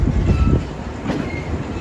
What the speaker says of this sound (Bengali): আমাদের ট্রেন ছেড়ে দিল ঝিনাইদহের মোবারকগঞ্জ রেলওয়ে স্টেশন থেকে